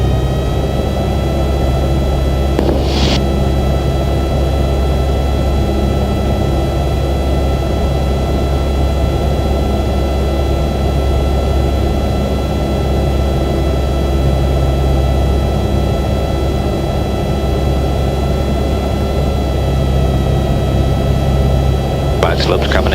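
Steady, loud drone of a small airplane's engine fills the cabin without a break, with a faint higher whine riding on top and no clear surge in power.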